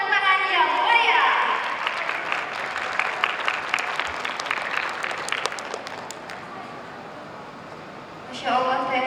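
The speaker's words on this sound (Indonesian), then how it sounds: "Boleh tepuk tangan yang meriah." A crowd at a women's festival claps warmly to welcome a guest named Teh Ginen to the stage, dense applause swelling under a host's voice at the start and fading out before speech returns at the end.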